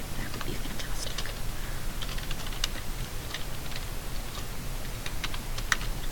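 Steady close typing on a computer keyboard, a rapid run of light key clicks with brief pauses and no talk.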